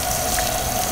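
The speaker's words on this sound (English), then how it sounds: "the pump will go from like low and start increasing the speed that it runs the water, and it gets louder and louder over time" Electric water pump on a BMW 335i with the N54/N55 engine running with the hood open, a steady, fairly loud whirring hiss with a constant tone throughout.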